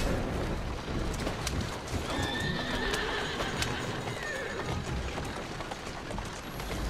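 A horse in Assassin's Creed Syndicate whinnies over steady clip-clop hoofbeats and a dense background wash, with a couple of rising high whinny calls in the middle.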